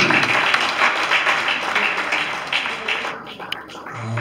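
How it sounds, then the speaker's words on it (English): An audience at a church reception applauds, a dense, steady burst of clapping from many hands at moderate distance that thins and fades out over the last second. "Come on, let's give Bishop Arthur a round of applause."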